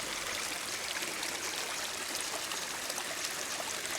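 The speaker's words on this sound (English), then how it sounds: "Little stream." Small forest stream in Taman Negara flowing steadily, a soft continuous babble and trickle of water heard close and alone, fairly quiet with no voices.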